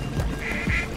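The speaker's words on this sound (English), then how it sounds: "There's actually a duck chasing me" A duck quacks twice in a horror video game, two short nasal calls close together over a dense, murky background of game noise.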